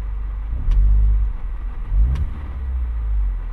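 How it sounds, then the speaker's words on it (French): A V8 car engine is blipped twice, each rev swelling into a throaty low roar and then dropping back to a rumbling idle, close and loud, with no one talking. "Vous avez entendu le V8 ou pas?"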